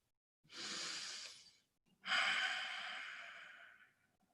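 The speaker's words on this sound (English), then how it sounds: "try and release it bit by bit with every slow, long, deliberate exhale" Two slow, deliberate exhales during yoga breathing, each a long soft breathy rush close to the mic, separated by a brief pause.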